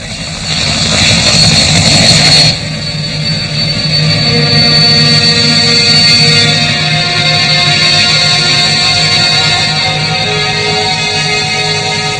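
A helicopter flies over desert terrain, its engine and rotor making a loud, steady drone that holds throughout, with a brief burst of louder broadband noise near the start.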